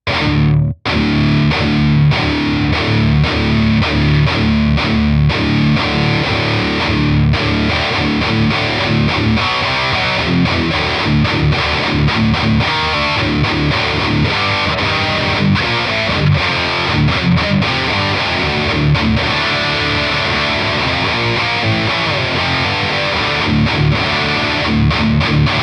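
Heavily distorted electric guitar chugs out palm-muted riffs through a high-gain ENGL Fireball 25 amp with KT77 tubes, loud and dense, with chords occasionally left ringing.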